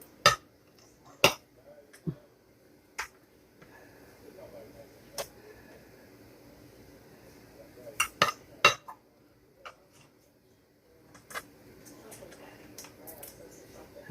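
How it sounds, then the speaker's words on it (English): A knife butters hot pancakes on a plate, giving scattered sharp metallic clinks and taps against the plate, some close together and others spaced apart, over a quiet background. "I need to butter them pancakes while they're hot"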